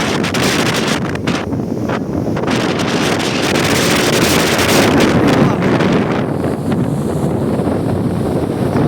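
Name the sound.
sea waves and wind at sea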